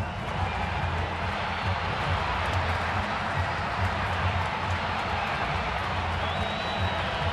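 A baseball stadium crowd in San Francisco roars steadily after Pablo Sandoval's home run, a broad sustained wash of cheering and clapping from far around the park with a faint murmur of talk.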